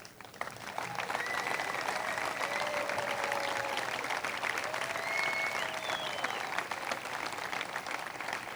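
An outdoor crowd at a centennial parade claps for a committee in sustained, even applause lasting several seconds, heard from a little distance, with faint whistling tones drifting over it.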